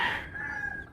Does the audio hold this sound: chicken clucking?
yes